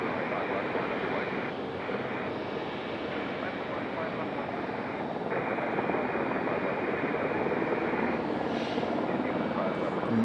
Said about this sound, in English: A pair of really loud Apaches behind us.